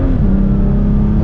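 A loud, close BMW E90/E92 engine drones and shifts pitch downward as the driver drops a gear, with a deep steady rumble throughout.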